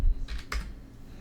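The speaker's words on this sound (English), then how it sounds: "I'm typing in the code right now." A code typed on a computer keyboard: a few quick, close keystrokes followed by a short pause, with no talking.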